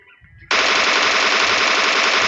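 A DP machine gun fires in a PUBG Mobile match, one loud, sustained burst that breaks in suddenly after a quiet moment and rattles on steadily to the end.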